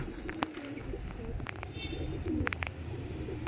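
Andhra pigeons coo softly in a loft, low steady cooing with a few sharper chirps and clicks over constant background murmur.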